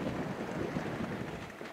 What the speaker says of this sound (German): es ist leichter Wind